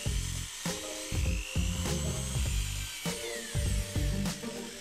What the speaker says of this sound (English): It's nothing more than a chunk of plastic, so drill it out.